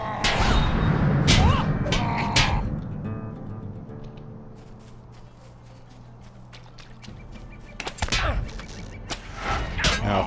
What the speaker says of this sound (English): We can see the fireworks over there.